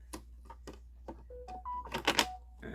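A short phone notification of a few steady electronic tones rings out midway, over soft taps and rustles from paper crafting on a greeting card holder.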